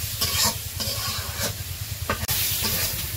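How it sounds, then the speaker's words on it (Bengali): Mola fish and tomatoes sizzle and hiss in a hot pan while a spatula stirs and scrapes in rhythmic strokes, with a sharp knock near the end. "পরে মাছ কষাইব"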